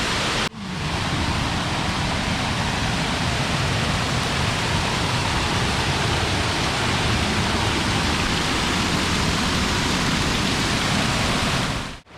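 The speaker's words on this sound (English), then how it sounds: "this waterfall just disappears into a big old sinkhole behind me" Waterfall at Virgin Falls State Natural Area in Tennessee, fed by an exposed underground river and pouring into a large sinkhole; a loud, steady, broadband roar of falling water, close and unbroken, with no voices.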